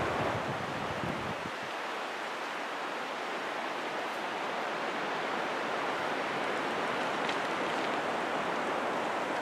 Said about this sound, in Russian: Ветер гуляет по верхушкам деревьев прям волнами